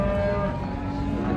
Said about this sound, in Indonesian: Mantap ya sapinya